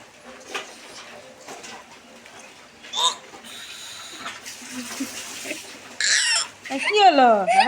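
A young child imitates a chicken's clucking with a finger in the mouth, producing warbling, bubbling vocal sounds that grow louder near the end, amid kitchen clatter.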